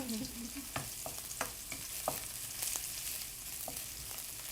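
Garlic and ginger stir-frying in hot oil in a home kitchen, a steady sizzle broken by sharp scraping strokes of a utensil against the pan, close and moderately loud, with no talking.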